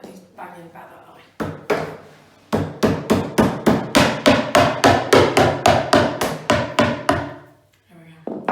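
Hammer bangs repeatedly on an IKEA six-drawer chest during assembly, a fast run of sharp, loud knocks at a steady rhythm, with a few separate blows before it and a person talking.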